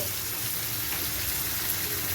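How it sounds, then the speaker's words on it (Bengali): Washed chapa shutki, a dried fish, frying in a pan, giving a steady, close hiss and crackle that runs without a break for about two seconds. "এখন শুটকিটাকে ভালোভাবে ভেজে নিব।"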